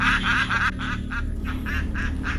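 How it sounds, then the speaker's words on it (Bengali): A large group of geese honks loudly together in a rapid series of about half a dozen harsh, close calls, with no talking. "অনেকগুলো রাজহাঁস উচ্চস্বরে ডেকে উঠেছে।"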